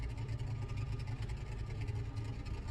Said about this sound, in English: Revs rising. It's all about dumping the clutch and getting it going.